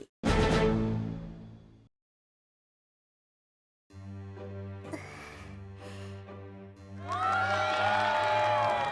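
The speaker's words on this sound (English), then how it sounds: "The audience breaks out into a round of applause" An audience at a screening of a Koto Rangers Beauty Squad episode bursts into applause and cheering, a loud burst at the start, a silent gap, then a rising crowd roar with whoops toward the end.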